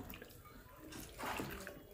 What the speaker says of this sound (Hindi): तो यहाँ पर हम डाल देंगे करीब आधा कप पानी।